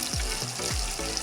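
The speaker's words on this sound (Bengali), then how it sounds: "দিয়ে আমি এটা ভালো করে ভেজে নিচ্ছি" Spices sizzle loudly in a hot pan with chopped tomato and green chili, a steady close frying hiss broken by a few stirring sweeps.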